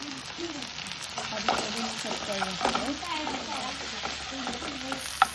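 Crushed kanthari and sambar chilies with curry leaves frying in oil, a lively close sizzle with crackles and pops while a utensil stirs and scrapes the pan, no voices.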